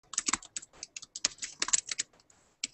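Rapid clicking keystrokes on a computer keyboard while someone types text into a school web tool, close and fairly quiet, irregular bursts with a brief pause near the end, no voices.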